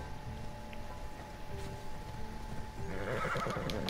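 A horse in the Assassin's Creed Odyssey video game whinnies loudly near the end, after a stretch of low hoof steps and ambient game noise.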